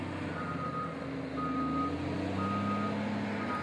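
A truck's reversing alarm beeps steadily at a flooded road, with evenly spaced tones over a constant rumble of engine and outdoor noise, heard from some distance.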